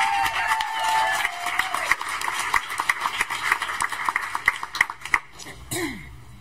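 An audience at a school district board meeting applauds and cheers for a primary school nurse, with a run of sharp claps and scattered whoops building and then fading out.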